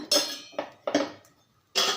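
An appam pan (appa chatti) is set down on a kitchen stove, giving four separate metallic clanks and clatters spread over two seconds; close by and moderately loud, no talk.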